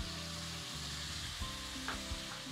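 Spice masala sizzles and fries steadily in a pan as boiled-pea water is added a little at a time, a close continuous hiss with faint stirring scrapes and no talk.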